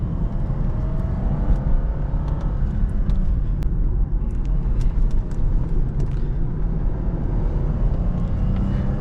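A Lexus IS250 drives down a mountain road, heard from inside the cabin as a steady low engine and road rumble with continuous tire noise and faint occasional clicks.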